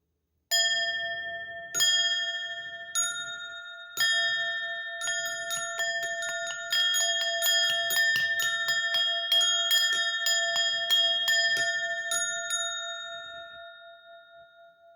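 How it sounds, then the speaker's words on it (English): A sound bowl is struck repeatedly for a healing session, its bright metallic tones ringing and overlapping in a steady sequence of strikes, each one sustaining and slowly decaying with no voices. "let's get some sound bowl healing, and we're going to close it out"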